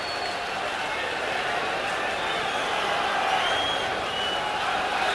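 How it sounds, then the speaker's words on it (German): A packed boxing arena crowd roars and cheers as the fighter is welcomed in before the Wladimir Klitschko vs Axel Schulz European heavyweight title bout, a steady, distant wash of massed voices with no break. "Und er wird naturgemäß mit Jubel empfangen."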